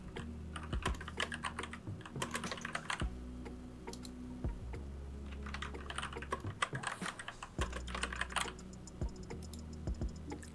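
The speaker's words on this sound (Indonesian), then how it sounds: "Kemudian ketik nama channelnya." Rapid, uneven clatter of a computer keyboard as a channel name is typed into a title graphic in Adobe Premiere Pro, with dense close-up key clicks running continuously and no speech.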